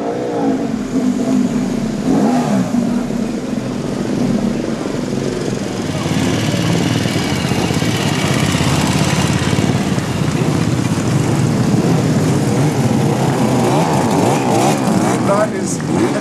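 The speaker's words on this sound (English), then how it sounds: "That's quite a selection of motorcycles." Motorcycles parade past at the 2014 Concorso d'Eleganza Villa d'Este, their engines a steady, loud rumbling drone with revving swells throughout, and a voice talking over the engine noise.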